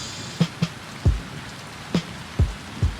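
Rain falling steadily as a broad hiss, with sharp drops landing one by one on a nearby surface every half second or so.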